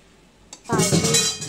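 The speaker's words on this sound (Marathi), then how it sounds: "काढते आता स्टीलच्या भांड्यात." Cooked potato and fenugreek sabzi is scooped into a steel pot. It starts with a faint tap, followed by close scraping and clattering of a utensil against metal for about a second.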